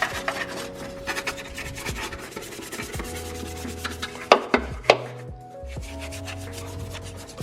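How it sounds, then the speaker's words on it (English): A stiff-bristled detail brush scrubs the grimy engine bay of a Nissan Skyline, making a close, rough, rhythmic rubbing and scratching with a few sharper knocks, and no talking. "take a detail brush with some pretty strong bristles and just go to town"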